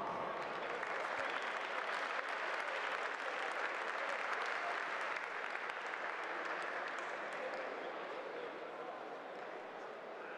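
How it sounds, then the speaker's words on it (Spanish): An audience at a women's jai alai tournament match breaks into sustained, dense applause and cheering that stays loud and even for the whole stretch, tapering only slightly near the end. "Demos un fuerte aplauso."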